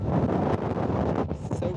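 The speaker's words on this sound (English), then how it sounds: "So breezy." Steady blustery wind buffets the microphone outdoors at the end of a hike, a constant broadband roar with brief dips, loud and close throughout.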